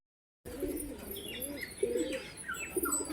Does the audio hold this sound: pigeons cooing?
yes